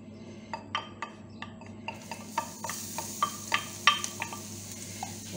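Garlic sizzles softly in a pan while a utensil knocks and scrapes against it in a quick series of sharp clicks over the faint frying hiss.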